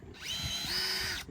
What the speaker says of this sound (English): I'm gonna take a drill.